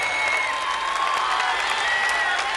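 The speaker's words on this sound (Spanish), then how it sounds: "por favor, un aplauso" Dense, continuous applause from a concert audience at a performance in Jesús María, a steady wash of clapping with crowd noise throughout.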